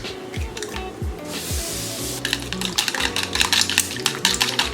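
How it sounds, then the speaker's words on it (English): Two eggs whisked with a utensil in a small bowl in a home kitchen, a quick steady clatter and scraping of the mixing, close and fairly loud with no talking. "Now I'm going to crack these 2 eggs and scramble them in this little bowl."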